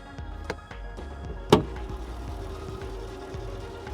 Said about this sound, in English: This engine sounds strange under the hood. It sounds like a 4-cylinder puttering along.